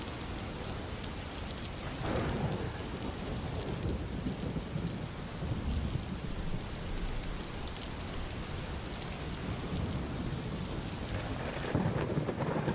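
Heavy, steady rain pours throughout a thunderstorm, with low thunder rumbling beneath the constant hiss and a louder surge near the end; no voices.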